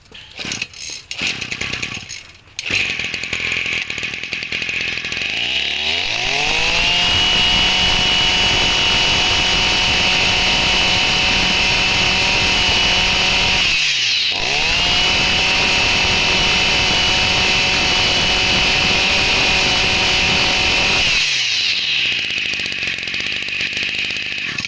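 A Maruyama M31 brush cutter engine starts with rough sputters, then runs at a steady high whine with strong harmonics, briefly cuts out midway, revs back up, and stops near the end, loud and close with no talk.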